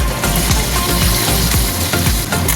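Chela fish fry in hot oil in a pan, producing a loud, continuous close-up sizzle with bubbling crackle and a low rumble beneath, and no voices.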